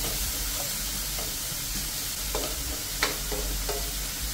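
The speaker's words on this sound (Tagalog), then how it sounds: "gisa-gisahin lang natin hanggang sa medyo matusta konti" Chicken pieces are stir-fried in a pan for pancit canton, with a dense, steady sizzle throughout and several sharp scrapes and clicks from stirring, no voices.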